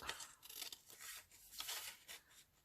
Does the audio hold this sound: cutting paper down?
yes